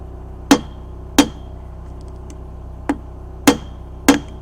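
Five sharp metal hammer blows on a rivet head, mushrooming it over, spaced irregularly about a second apart, close and alone over a faint steady hum.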